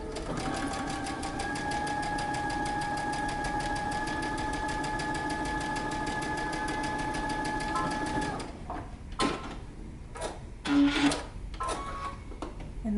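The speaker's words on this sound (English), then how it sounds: "we're going to stitch together one side using 5/8 of an inch seam allowance." A sewing machine stitches a pants waistband seam in one long steady run, then gives way to a few brief handling clicks and thumps.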